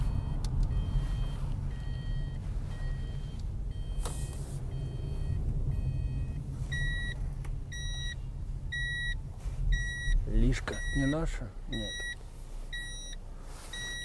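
Parking sensor on a car beeping while reversing into a parking lot, a short repeating run of electronic beeps over engine rumble, with people talking at times.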